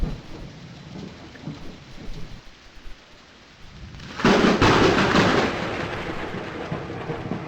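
Heavy thunderstorm near a MARC Penn Line train heading inbound to Washington, D.C.: steady rain and rumbling, then a loud thunderclap bursts in about halfway through and the downpour roars on loudly afterward, with no talking.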